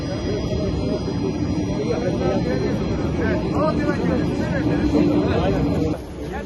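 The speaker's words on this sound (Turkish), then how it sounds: "Arda arda mı geliyor uçaklar?" Jet airplanes roar overhead one after another, a broad rushing drone that swells and fades, with people talking nearby under the noise.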